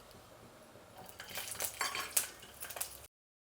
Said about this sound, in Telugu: ఇప్పుడు వెల్లుల్లి రెబ్బలు వేసుకుందాము